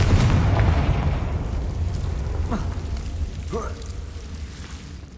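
A Confringo explosion spell cast in Hogwarts Legacy: a loud, rumbling boom at the start that rolls off and fades over several seconds, with faint crackling and a few brief tonal effects in the tail.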